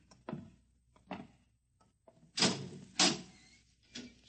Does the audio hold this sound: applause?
no